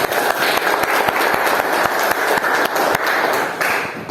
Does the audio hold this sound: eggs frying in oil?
no